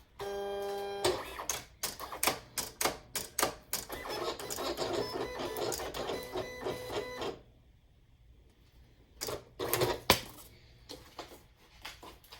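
Silhouette Cameo vinyl cutter running a test cut on paper, a rapid mechanical whirring and ticking of motor and carriage for several seconds, a pause, then another brief burst of movement, close and distinct.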